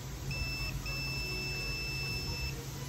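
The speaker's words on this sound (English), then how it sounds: "As you can hear, my multimeter beeps, confirming that there is continuity between both of these points." A multimeter continuity beep, high-pitched, sounds briefly, breaks off, then returns as a steady tone for nearly two seconds over a low hum, while a milking machine is being tested.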